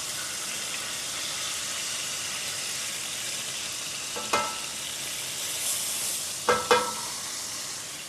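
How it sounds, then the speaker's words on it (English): Food searing in a hot aluminum-core pan gives a steady, hissing sizzle throughout, broken by a few clanks of a utensil near the end. "Try to get a little bit of sear on the sides."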